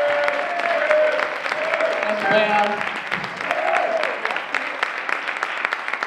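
Audience applause at a jazz concert, a dense and fairly loud wash of clapping that runs throughout while someone speaks briefly over it.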